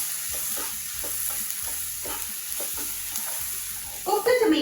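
Tomatoes cook in a pan with Kashmiri red chilli powder while being stirred, giving a regular scraping rhythm of strokes over a soft sizzle, which turns louder and more crackly at the end.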